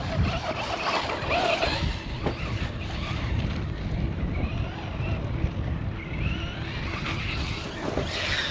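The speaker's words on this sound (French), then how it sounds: "le vent il devient dégueu là" Strong gusty wind buffets the microphone outdoors with a rough, uneven rumble and roar, while an RC car is filmed running.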